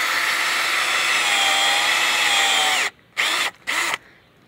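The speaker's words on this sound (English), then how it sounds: "I use a drill with an auger at the end of it" A cordless drill fitted with an auger bores planting holes in garden soil, whining loudly and steadily for about three seconds, then cutting out and revving in two more short bursts.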